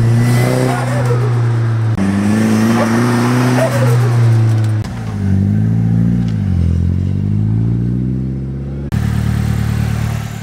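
A Nissan S13 engine runs steadily after sitting in storage, a loud close idle with strong low harmonic drone that shifts pitch slightly through several gentle revs, continuous with no talk.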